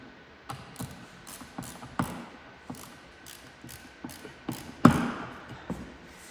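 Small screws being tightened on a drywall clamp, a run of sharp, fairly quiet ratcheting clicks and taps at an uneven pace, one louder knock near the end, no voices.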